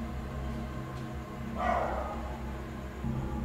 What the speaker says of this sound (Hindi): मुसलसल कुत्तों का भौंकना लगातार।